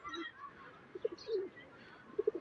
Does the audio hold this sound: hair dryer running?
no